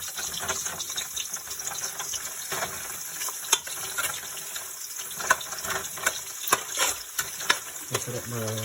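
Ginger frying in a pan for a Kapampangan pork neck bone batchoy gives a steady, moderate sizzle and hiss. Scattered clicks and scrapes of stirring run through it, and no one speaks.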